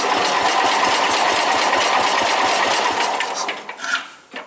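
A Chevrolet Suburban engine idles right after a hard cold start with a fast, even mechanical beat. It is loud and close at first, then it falters and its level dips and wavers toward the end, and no speech is heard.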